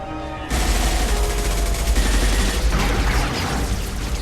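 Heavy gunfire from a Mass Effect 2 firefight bursts in suddenly and holds as a loud, continuous barrage of rapid shots and impacts, with no voices over it.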